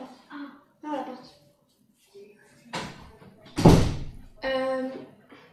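A door in a home kitchen is shut with a loud, broadband thump near the middle, between stretches of nearby talking.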